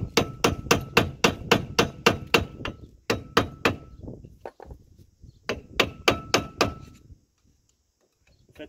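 Hammer blows striking a front brake disc hub on a Firebird: a fast series of sharp, loud metallic knocks in bursts with short pauses, close up and without talk.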